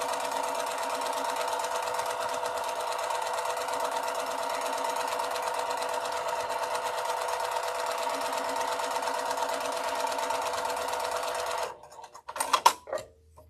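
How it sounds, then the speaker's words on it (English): A sewing machine runs steadily while stitching a seam, with a close, even buzzing hum for about eleven seconds before stopping, followed by a few brief clunks and handling noises. "And just let that machine pull that through."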